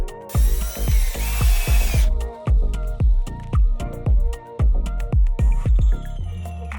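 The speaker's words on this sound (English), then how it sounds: "Now, secure each bracket with the included screws and tighten until firmly in place." A power drill drives screws to fix roller shade brackets inside a window opening, with a loud close whirring motor that revs in short repeated bursts and a high whine near the start.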